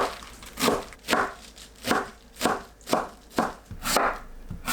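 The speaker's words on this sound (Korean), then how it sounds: "배추를 얇게 채 썰어서 준비합니다" A knife thinly slicing napa cabbage on a cutting board, making about ten steady, evenly spaced crunchy chops, close and clear.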